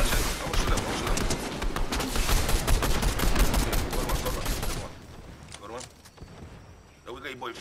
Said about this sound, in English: Somebody coming and shoot them, shoot them, shoot them, shoot them.